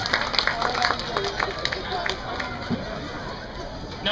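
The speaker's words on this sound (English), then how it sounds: "How about a round of applause for our very brave people over there in the far side of the splash" Scattered audience clapping mixes with crowd chatter in the stands at an aquarium beluga show, moderately loud and irregular, with voices in the crowd throughout.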